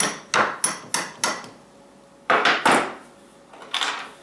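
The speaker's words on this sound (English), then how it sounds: "Always use the hammer. So we're going to punch this bolt through." Hammer striking a bolt to drive it through a chair, a run of four sharp evenly spaced knocks, a pause, then three more blows and a softer final tap, close and crisp with no talking.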